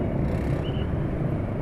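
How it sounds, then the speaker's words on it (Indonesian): A Yamaha NMAX scooter engine idles smoothly with a low, even rumble, close and steady, with no voices over it. "Itu suara mesin ya tetap halus."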